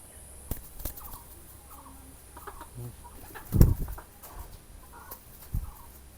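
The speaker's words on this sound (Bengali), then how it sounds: "পাখির মধ্যে এই কবুতরটা অনেক সুন্দর" Soft, low pigeon coos come and go at intervals, with a brief louder thump partway through and quiet background hum.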